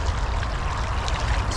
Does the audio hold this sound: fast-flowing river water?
yes